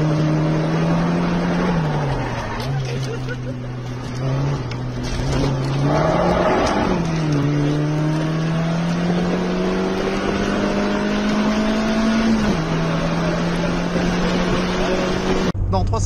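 A Peugeot 306 GTI races through a double hairpin, its engine droning and shifting pitch as it brakes, turns and accelerates away, with wind buffeting the microphone. Someone talks over it.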